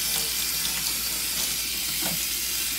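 Warm water runs steadily from a kitchen tap for hand washing, a continuous close hiss and splash with a faint clink partway through.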